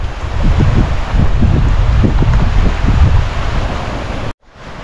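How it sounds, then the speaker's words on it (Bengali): Loud, rumbling surf and wind noise roar continuously on Koh Samet island, Thailand, with sea water surging against rocks close by before cutting off abruptly near the end. "এখানে পাথরের মধ্যে এসে সমুদ্রের জল ধাক্কা খাচ্ছে।"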